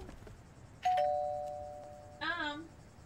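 Doorbell ringing at a house on Vintage Street in the video game Lake, a single clear two-tone chime with a long ringing decay; someone speaks briefly in the same moment.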